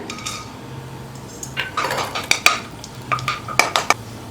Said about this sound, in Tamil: இப்போ இந்த முந்திரியை சேர்த்துடுறேன்